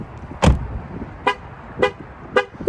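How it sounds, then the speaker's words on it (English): After a dull thud, a 2023 Jeep Wrangler Rubicon 4xe horn gives three short, evenly spaced honks, each brief and clear, signaling the vehicle is still running. "with those 3 honks, it's telling me the vehicle is still running"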